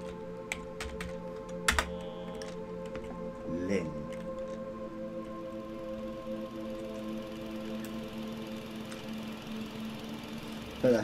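Computer keyboard typing in a sequence of scattered clicks and taps under a steady hum of horror game background music, with a few sharper key hits, played fairly quietly.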